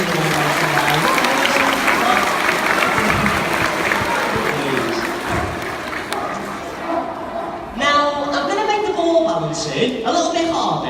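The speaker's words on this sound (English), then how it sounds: "Give them both a nice big round of applause" An audience at a sea lion show in a safari park claps in a sustained round of applause, with a presenter's voice over the crowd and a burst of cheering near the end.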